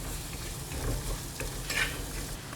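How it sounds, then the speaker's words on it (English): Quiet frying in a pan while a fish curry with pepper is being made, a low steady sizzle with a few faint stirring scrapes and one brighter spatter near the end. "And you just fry it."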